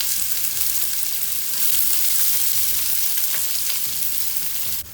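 Onions frying in hot oil with cinnamon and cardamom for a palak chicken curry give off a steady, bright sizzle, close and fairly even, with faint stirring and no talking.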